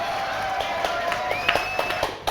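Studio audience applause on a French live talk show, a steady spread of many hands clapping at moderate volume, with a few sharper claps and a faint whistle standing out near the end.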